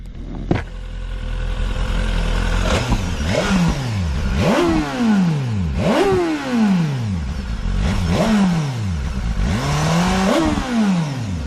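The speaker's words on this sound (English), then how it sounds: "Sound high performance? That's because it is. It's a mighty fine motorcycle" A 2017 BMW S1000RR sport motorcycle engine revs hard several times in a row, each blip rising sharply in pitch and falling back, loud and close.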